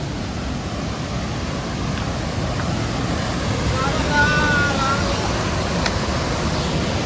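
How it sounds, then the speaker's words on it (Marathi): The Bori River in strong, high flow roars in a steady, dense wash, strong and continuous, with a faint tonal whistle briefly rising above it. "पाण्याचा प्रवाह खूप जास्त आहे"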